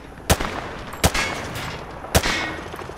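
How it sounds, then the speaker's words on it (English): Call of Duty Modern Warfare 2 Remastered gunfire at a target range: three loud, sharp shots, spaced unevenly, each followed by a brief reverberant tail. "Grab that weapon off the table and fire at the targets behind you."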